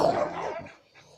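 Two neighbours' dogs fighting, with loud, frantic overlapping barks and yelps up close that fade off toward the end.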